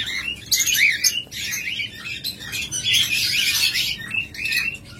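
A master-grade pair of lovebirds chirps continuously at close range, with bright, overlapping tweets and squawks filling the whole stretch without pause.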